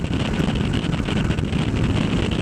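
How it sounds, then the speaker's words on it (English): Strong wind buffets the microphone, a loud continuous low roar with gusty rumbling throughout. "So it's super windy out today."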